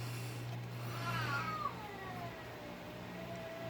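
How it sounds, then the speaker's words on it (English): Cats meowing in a room, a couple of drawn-out, rising and falling meows at moderate distance over a steady low hum, no one speaking. "Sorry about the cats in the background"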